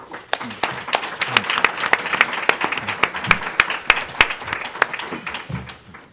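Audience applause welcoming a panel of corporate representatives at a Bay Area philanthropy event, a steady dense clapping that runs the whole time at even strength from a sizable room.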